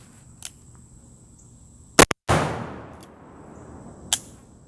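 A muzzleloading revolver with a 5-inch barrel fires once with a sharp, loud crack as its powder chain-fires across the cylinder, the doubled blast followed by a trailing rumble and fainter distant shots on either side.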